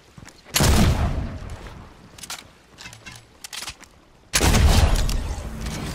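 Bursts of gunfire in a video game, two long loud volleys separated by quieter scattered shots, with no talking.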